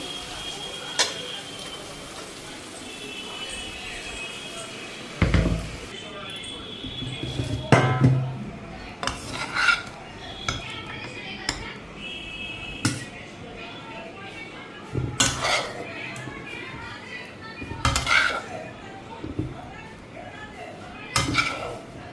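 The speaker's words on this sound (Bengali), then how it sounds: "এদিকে আমার পটল চচ্চড়া হয়ে গেছে, এখন এটা নামায় নিই" Metal pot clanking in a home kitchen as cooked potol chochchori is lifted off the stove, several sharp knocks and scrapes spread out over low sizzling, with someone talking in between.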